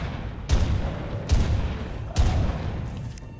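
Gunfire in the video game ARK: Valguero, three heavy booming shots spaced about a second apart, each with a sharp attack and a long rumbling tail.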